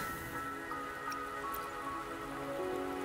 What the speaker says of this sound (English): The rain won't last much longer.